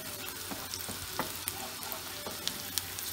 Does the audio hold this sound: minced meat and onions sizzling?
yes